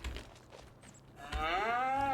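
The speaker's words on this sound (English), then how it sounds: "So now we have a few cows to get our beef herd started." Cattle in a dairy farm video game let out a single loud, drawn-out moo close by after a few quieter ambient sounds.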